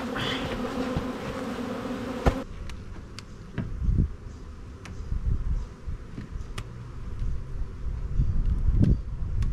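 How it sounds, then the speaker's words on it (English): A dense hum of many bees in a pit fills the first couple of seconds, then a quieter insect drone continues with soft bumps and rustling nearby. "there's still a lot of bees in there."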